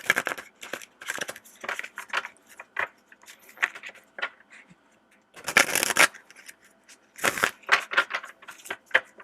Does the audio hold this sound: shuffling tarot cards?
yes